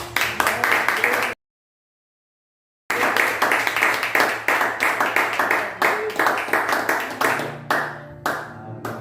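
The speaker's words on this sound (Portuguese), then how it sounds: "Você pode aplaudir o Senhor Jesus?" A church congregation at a Bible study claps together in a loud, steady burst, with a sudden full silence partway through before the clapping resumes and gradually thins out near the end.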